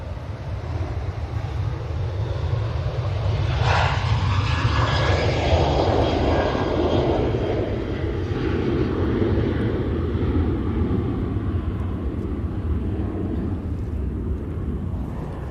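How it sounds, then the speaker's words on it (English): A Ryanair airliner departs for Dublin, its engines roaring loudly and steadily throughout, with a rising whine briefly standing out near the start. "That was a Ryanair. It was. It went to Dublin."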